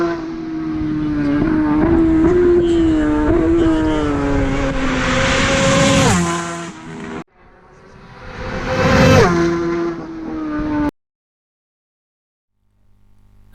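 Super Twin race motorcycles at the Isle of Man TT scream past one after another, engines whining loudly as they approach and fade, then silence after the last machine passes.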